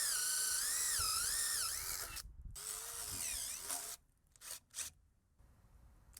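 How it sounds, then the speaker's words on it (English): Power drill boring half-inch holes for an anti-sag gate kit, a loud whining motor with rising and falling pitch, then a pause and short bursts of drilling before quieter handling noise. "Now I'm gonna drill those holes 1/2 inch."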